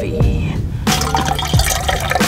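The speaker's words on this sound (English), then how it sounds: "All right, coffee." Coffee poured at a hammock campsite in the Florida Everglades, a close, loud stream of liquid filling a cup, with a few splashy drips before and during the pour.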